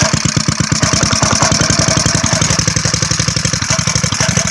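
A Briggs & Stratton small engine on a mole-killer and starter rig idles half choked on a cold morning, its loud, steady, rapid exhaust pulses thudding evenly throughout with no voices.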